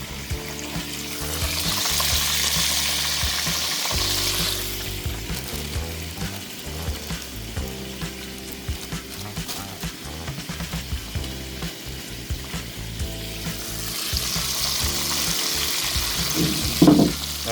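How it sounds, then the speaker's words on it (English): Flour-coated chicken pieces sizzle and crackle in a frying pan as they are laid in one by one, a steady close frying hiss throughout with brief clatter near the end. "the order of the chicken that I'm putting it in the frying pan"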